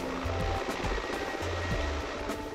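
A helicopter flying over mountains near base camps, its low rotor thump pulsing steadily and moderately loud under broadband wind-like noise.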